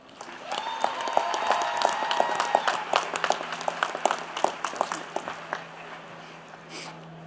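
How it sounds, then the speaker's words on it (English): Graduation ceremony audience applauding the platform party, a crowd's clapping rising and sustained with distinct individual claps, then thinning out toward the end, with faint voices and a low hum underneath. "Please, a round of applause for our platform party."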